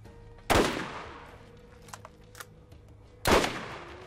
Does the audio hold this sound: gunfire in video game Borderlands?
yes